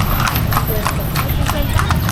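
Horse-drawn kalesa in Ilocos, hooves clip-clopping in a quick steady rhythm on pavement close by, with people talking over it.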